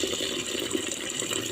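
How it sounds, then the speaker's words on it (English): Water runs steadily into a cooking pot of rice being parboiled, a continuous close splashing and trickling fill that carries on at even loudness with no talk. "We pour our rice in the pot, add water."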